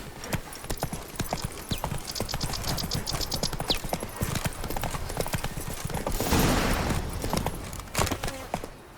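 The horse Roach trots in the video game The Witcher 3: Wild Hunt, Blood and Wine, with a rapid, continuous clip-clop of hooves, close and steady, amid faint outdoor ambience.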